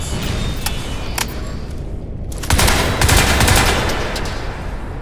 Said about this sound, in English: Shoot guns!